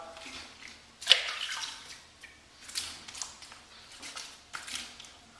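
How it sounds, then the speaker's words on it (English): A Merkur Progress adjustable safety razor is rinsed under water between shaving passes, giving soft, fairly faint splashes and trickles in short bursts, with one sharper splash near the start. "We'll rinse off."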